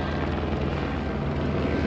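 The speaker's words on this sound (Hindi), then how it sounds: "इस तरफ से प्लेन जा रहे" An airplane or helicopter passes overhead as a brief, steady engine drone at moderate loudness, with no speech.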